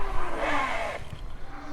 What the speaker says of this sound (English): Let's go ahead and test out these brakes.